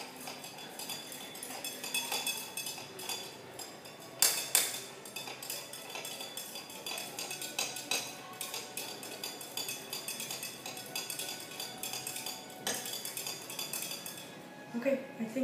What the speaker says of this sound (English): Stir it until it is dissolved.